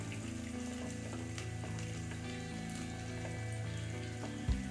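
Small onions, shallots, frying in a pan, a soft steady sizzle with a constant low hum underneath, quiet and continuous, with one brief knock near the end.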